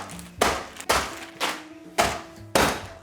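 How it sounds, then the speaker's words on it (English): A wok smashes cucumbers in a bag in five heavy, evenly spaced thuds, each striking sharply and dying away quickly. The blows are close and loud. "we're mixing the dressing and smashing the cucumbers at the same time"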